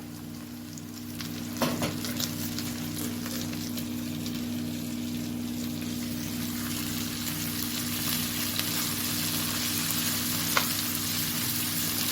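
Chicken liver and gizzards sizzle loudly in a pan for rice-stuffed pigeon, an even, close frying hiss that runs throughout over a low steady hum, with a couple of brief clatters.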